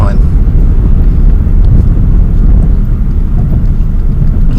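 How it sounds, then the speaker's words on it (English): Vehicle engine roaring loudly as it downshifts into second gear, a dense continuous rumble heavily buffeted by wind noise, with no clear talk over it. "Nothing like dropping it to second gear"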